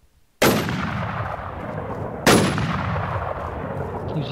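Two sharp gunshots in the survival shooter Infestation: Survivor Stories, likely a sniper rifle firing from a tall building, each a loud crack with a long echoing tail, spaced about two seconds apart.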